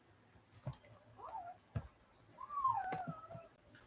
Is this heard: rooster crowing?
no